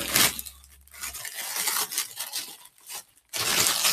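Packaging crinkles and rustles in short uneven bursts while gift haul items are unwrapped, close and fairly quiet, with one louder burst of crackling at the end.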